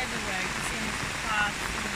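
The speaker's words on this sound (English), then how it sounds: "It's raining quite heavy. Very much rain." Heavy rain falls steadily on a bee and pepper farm on Phu Quoc, Vietnam, making a continuous hiss. A person talks over it.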